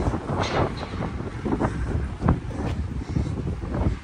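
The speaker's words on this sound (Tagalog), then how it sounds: "Grabe lakas ng hangin." Strong, cold wind buffets the microphone on a beach, a continuous loud roar of gusts and rumble with no pauses, close and dominating throughout.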